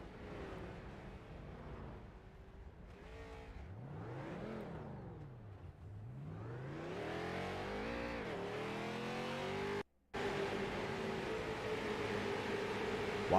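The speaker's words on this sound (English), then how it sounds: "Watch these cars come into this wreck." Race cars on a short oval track in a scrambler series wreck, engines roaring loud and close as cars rev, slow and pile in, with a brief cut of silence near the end.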